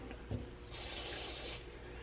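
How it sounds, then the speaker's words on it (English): Mass airflow sensor cleaner sprays onto an engine's sensor in one close, steady hiss lasting nearly a second, after a small knock and some faint handling sounds. "we're just going to spray the sensor down really well and clean it"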